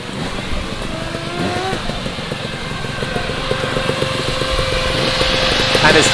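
A two-stroke trials motorcycle climbs a hill at a British trials championship final round in Suffolk, its high, buzzy engine revving steadily and growing louder as it nears, with a commentator talking over it.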